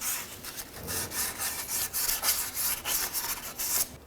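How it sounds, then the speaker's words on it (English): Rapid, steady rasping strokes of hand sanding on the exhaust manifold flange surface of a 2006-2012 Ford Fusion during a catalytic converter replacement, close and continuous with brief rhythmic pulses, no talking. "Just go ahead and sand this up."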